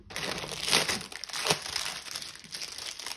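The plastic packaging of a cross-stitch kit crinkles and crackles as it is torn open, close up, steady rustling with a couple of sharper louder crunches and no voices.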